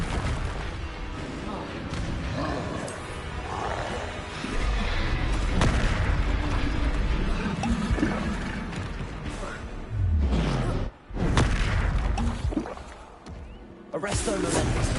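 Spell blasts and booming impacts from combat in the video game Hogwarts Legacy, played on PS5, come as dense, loud bursts and crashes layered over a continuous game soundscape, with a voice talking throughout.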